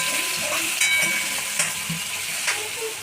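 Garlic and onion mixture frying in oil, a steady loud hiss of sizzling with light stirring scrapes and soft bubbling pops over a few seconds.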